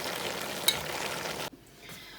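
Chinese cabbage with soy sauce sizzles and hisses in a pan, a steady close frying sound with one small pop, cutting off abruptly partway through and leaving near-silence.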